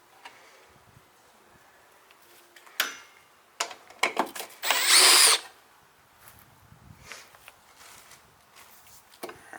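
A power drill takes bolts off the guard of a 1983 Honda ATC 70 three-wheeler, with a few short bursts and clicks and then one sustained whir lasting about a second, close in a quiet space.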